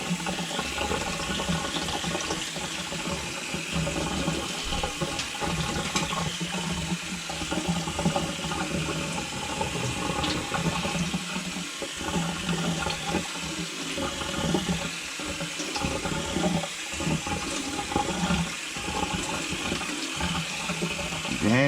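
Chickpeas being rinsed for hummus under cold running tap water: a loud, steady, continuous rush of water splashing into a sink for the whole stretch, with a little sloshing as they are stirred.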